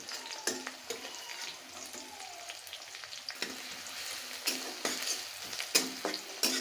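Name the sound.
frying bottle gourd greens with onion and garlic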